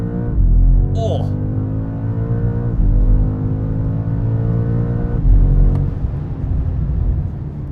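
A BMW M5 launches hard under launch control, its engine surging loudly through rising gear pulls with short dips at each upshift. The deep roar stays close and strong throughout, and a brief voice cuts in near the start.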